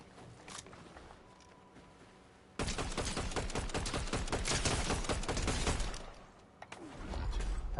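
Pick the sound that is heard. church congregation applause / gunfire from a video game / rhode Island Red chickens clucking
gunfire from a video game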